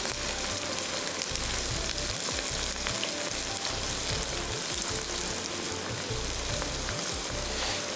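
Onions and roughly chopped tomatoes sizzle and fry steadily in a hot pan, a close, continuous crackle with occasional stirring and no talk.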